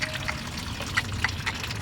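Water pours and trickles steadily from a flood-soaked engine unit, a continuous wet splashing with a few brighter drips standing out, close by and without talk.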